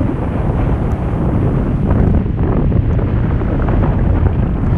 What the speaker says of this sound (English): the wind is really helping me